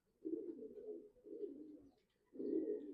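Pet pigeons or doves coo softly in three low, throaty phrases, the calls quiet and near with brief pauses between them.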